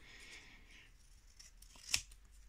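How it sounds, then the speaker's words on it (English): Scissors snip once through a folded photo print being trimmed at the edge for a winter-themed craft; a single sharp, close cut stands alone against quiet room tone. "I've got a pair of scissors, and with this one I'm going to make sure I trim enough off"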